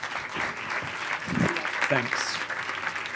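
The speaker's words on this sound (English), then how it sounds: "Can we give him a round of applause?" Audience applause welcoming a speaker to the stage at a talk, a steady wash of clapping throughout, with someone briefly speaking over it.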